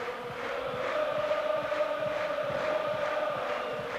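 Stadium crowd at the 1992 UEFA Cup Final second leg, Ajax against Torino, a continuous distant murmur of thousands of fans that swells gently but never breaks into a clear roar.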